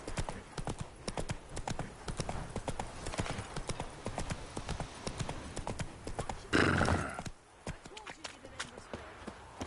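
Roach, a horse in The Witcher 3 video game, galloping with quick rhythmic hoofbeats close by, a loud burst and a whinny near the end, with game voices speaking over it.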